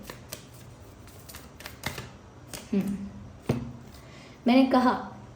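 Tarot cards being shuffled by hand, a few quiet riffles and taps, then a louder burst of card flutter near the end, all fairly close with faint background noise.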